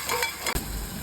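Ginger garlic paste sizzles in a hot pan, a close, steady hiss with a brief scrape of stirring partway through.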